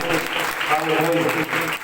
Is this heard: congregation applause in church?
yes